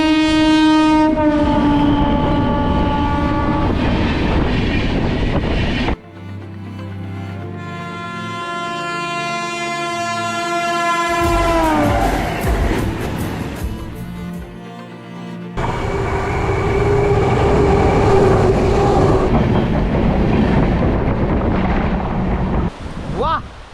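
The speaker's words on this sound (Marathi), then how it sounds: "धबधब्यासमोरून जाणारा ट्रेनचा नजारा" Konkan Railway train passes through a tunnel beside the Ranpat waterfall, sounding long, loud horn blasts over rumbling, clattering wheels, with the roar changing as it enters and leaves the tunnel.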